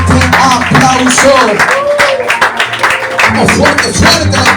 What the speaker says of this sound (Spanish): Fuerte, fuerte el aplauso que es para nuestro Dios